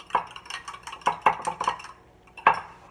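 Eggs mixed with half and half in a mug, a spoon clinking and scraping against the sides in quick irregular strokes, close and fairly loud with pauses between.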